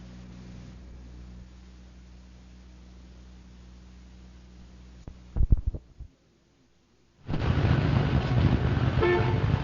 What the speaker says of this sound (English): sitting in another traffic jam